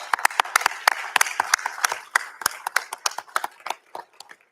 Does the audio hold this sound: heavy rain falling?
no